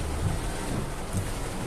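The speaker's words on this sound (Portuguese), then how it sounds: "Bem que a chuva tá grossa ainda, ó" Heavy rain pelting a car while driving, a dense, loud, unbroken hiss and drumming on the vehicle with low rumble underneath.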